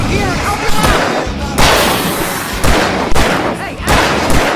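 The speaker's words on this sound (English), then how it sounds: "I can set off more of the fireworks from here and help them out" Fireworks going off during a night fight in Alan Wake, a series of loud sharp bangs and crackling bursts every second or so, close and harsh, layered over noisy commotion.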